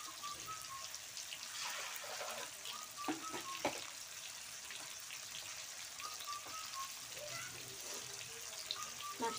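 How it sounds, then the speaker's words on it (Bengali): Hands are washed under running water in a home kitchen while cooking: a light, steady trickle and splashing with occasional drips, faint and close, with soft background noise. "আমি হাতটা ধুয়ে নিই"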